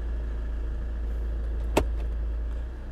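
A Mahindra XUV500 automatic engine idles after starting, a low steady rumble heard close by from inside the car, with one sharp click partway through.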